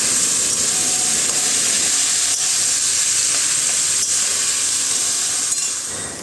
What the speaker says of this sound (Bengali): সেদ্ধ করে রাখা চাল কুমড়োটাকে দিয়ে দেবো সেগুলো ভালো করে নাড়াচাড়া করবো